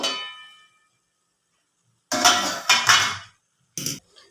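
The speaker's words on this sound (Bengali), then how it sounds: "তো আমার 10 মিনিট হয়ে গেছে, ঢাকাটা খুলে দেব।" A metal lid comes off a cooking pot of fish curry after ten minutes of simmering, a few loud close clanks and clatters separated by silence, with a ringing metallic tone at the start.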